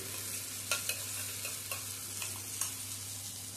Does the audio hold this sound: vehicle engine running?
no